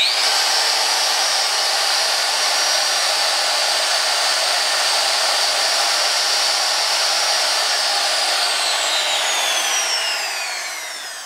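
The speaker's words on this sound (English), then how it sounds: "So we'll start with the router." A wood router runs on an inverter power pack as one steady, loud, high whine for about ten seconds, close and alone, then begins to wind down at the end.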